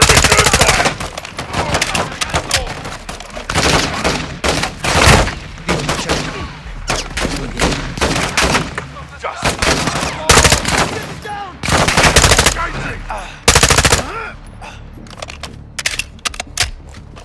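Dense automatic and single-shot gunfire from the video game Call of Duty rattles on in loud bursts and rapid volleys through the whole stretch, with short pauses between the heaviest strings of shots.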